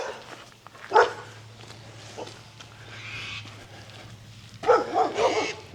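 A dog barks a few times outdoors in a country town near a river, two or three sharp yelps spaced apart at moderate distance over steady background hum.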